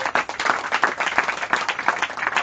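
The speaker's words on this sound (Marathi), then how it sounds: "टाळ्या वाजवते लेकरांसाठी।" A church congregation in Varkhed village claps for the children, dense and fairly loud rhythmic clapping that keeps going steadily throughout, with no talk.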